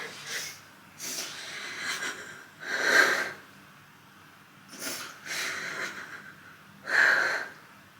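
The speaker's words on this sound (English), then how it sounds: "I need to take a deep breath." Several deep, breathy inhalations and exhalations from one person in a quiet room, coming in slow waves about every two seconds, close and fairly loud with no talking.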